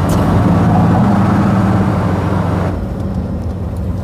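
A car engine running steadily at about 55 mph and 3,000 RPM on the freeway, a loud continuous low drone with road noise that drops slightly in level near the end.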